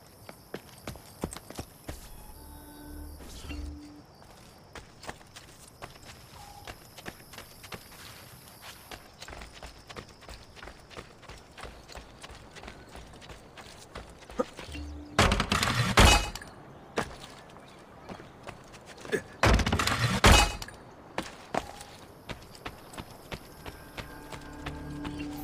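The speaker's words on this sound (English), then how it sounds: "I can no longer keep up with the horses." Horse hooves clip-clop steadily in the Assassin's Creed Brotherhood video game, a moderate walking rhythm running throughout, joined by louder crashing bursts midway.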